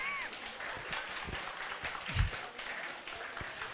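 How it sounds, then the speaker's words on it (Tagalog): A church congregation applauds during a pastor's sermon, a steady wash of many hands clapping at moderate distance that fills the room throughout. "Gusto ko po yung pagkakabawi po ng mga palakpak ninyo."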